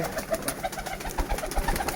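Lotan pigeons coo softly and repeatedly in their loft, several low throaty calls overlapping close by, with no talking.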